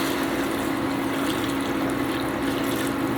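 Hot boiling water poured into a pot of birria meat in a home kitchen, a steady continuous splashing rush that stays level for a few seconds without talk.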